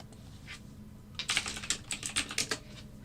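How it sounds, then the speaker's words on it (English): Fast typing on a computer keyboard, a quick close burst of crisp, uneven keystrokes that begins after a moment of near silence and continues to the end, with no talk over it. "Joe, I type 80 words per minute."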